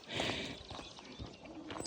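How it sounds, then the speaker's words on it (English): Quiet birdsong with soft dove coos drifts through a calm rural hillside town on the Camino near Santa Catalina de Somoza, faint and somewhat distant over a low outdoor hush. "I get to hear all the beautiful sounds of birds."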